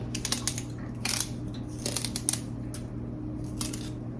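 Celery stalks being cut up with a knife, heard as several groups of crisp, crunchy cutting strokes over a steady low background hum, with no talking.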